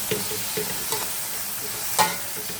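Beef frying in a pan with onion and garlic, a steady close sizzle broken by scraping stirs, with a sharper clatter near the end.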